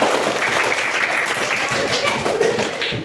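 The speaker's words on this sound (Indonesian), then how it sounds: "beri tepuk tangan kepada temannya" A class of students applauds their classmates, a continuous bright wash of clapping hands in a room, steady throughout with faint voices underneath.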